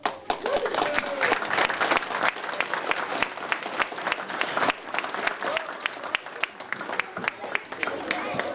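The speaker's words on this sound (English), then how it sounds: "Round of applause." A crowd applauds at a Dr. Martin Luther King Jr. ceremony in North Brunswick township, with dense, steady clapping sustained throughout and sharp individual claps standing out, while murmuring voices rise underneath.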